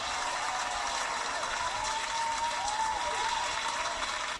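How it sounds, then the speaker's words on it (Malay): An audience at a business training session applauds for Azim: a continuous, even wash of clapping with a faint thin tone running through it, held at a moderate level throughout. "Guys, berikan tepukan tu Azim."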